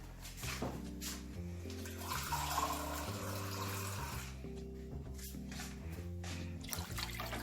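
Water pours in a steady stream into an Instant Pot, splashing continuously beneath soft background music.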